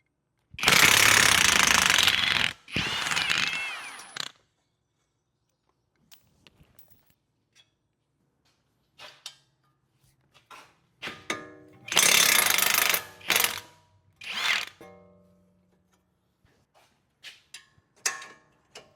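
Impact or air tool bursts hammering at a strut-to-steering-knuckle bolt on a Jeep Renegade, two long loud rattling runs separated by quiet stretches with small metallic clicks and clinks.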